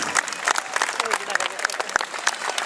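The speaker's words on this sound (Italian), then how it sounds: "un grosso applauso al gruppo di Sina" At a street grape festival, people clap for a passing folk group in uneven, close, sharp claps over a busy crowd, with a voice talking through the applause.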